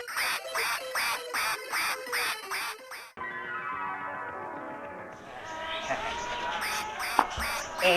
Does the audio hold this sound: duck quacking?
yes